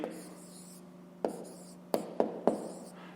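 A pen scratches out a fraction on paper, with a soft scribble early on and then four sharp taps or strokes in quick succession near the end, quiet and close over a low steady hum.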